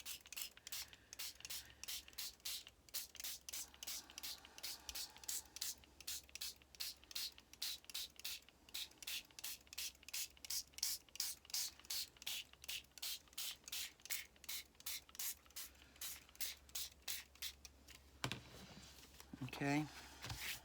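A spray bottle mists water onto paper for a faux leather journal cover, firing a long run of quick, evenly spaced sprays at close range, followed at the end by brief rustling of the paper.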